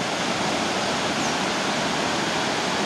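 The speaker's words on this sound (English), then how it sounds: "Lots of rapids. Lots and lots of rapids." River rapids rushing over big rocks, a steady dense roar of white water, loud and continuous, with no voices.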